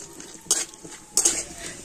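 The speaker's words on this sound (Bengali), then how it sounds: "সমস্ত ড্রাই ফ্রুট গুলো ঘিয়ের উপরে আমি হালকা করে ভেজে নিচ্ছি" Dry fruits lightly frying in ghee in a pan, two short clattering stirs of a spoon against the metal over a faint sizzle, close by with no voices.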